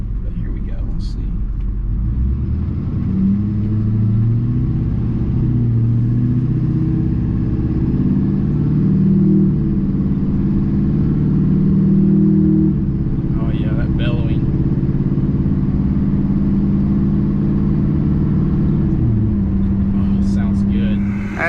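Duramax diesel pickup with a straight-pipe exhaust and the downpipe completed, rumbling steadily and loudly as it drives, its deep engine drone rising and falling with a brief surge near the end.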